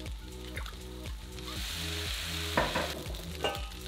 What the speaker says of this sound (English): Crank up the heat, get them all stirred up